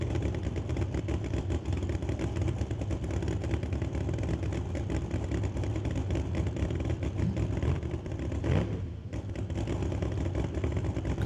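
A built 1969 Camaro drag race car sits on the starting line with its engine running loud and steady, a dense continuous roar with a brief dip near the end.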